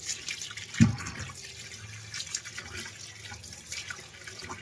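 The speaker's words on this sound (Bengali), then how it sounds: "প্রথমে করলাগুলোকে ভালো করে ধুয়ে নিই" Water runs from a tap with splashing as bitter gourds are rinsed, opening with a dull thump.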